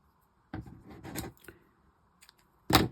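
Scissors cut through a strip of card about 27 cm long during card making, producing a few close, crisp snipping bursts separated by short pauses, with no talking.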